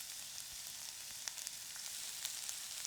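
Onions frying in a pan on high heat for a home-made corned beef hash, a steady faint sizzle with small crackles and pops throughout.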